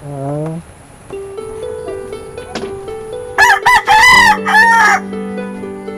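A rooster crows loudly and close by, a long rising call, with clucking and other farmyard bird sounds around it.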